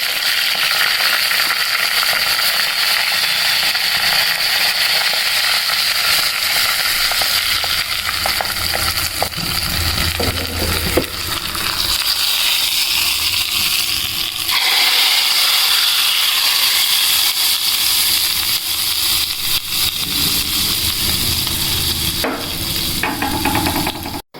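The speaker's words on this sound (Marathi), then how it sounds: "तडका पॅन लाल मिरची आणि हिंगाचा तडका द्यायचा आहे" Red chillies and asafoetida sizzle loudly in hot oil in a small tempering pan, a steady crackling hiss running throughout with brief stirring clatter near the end.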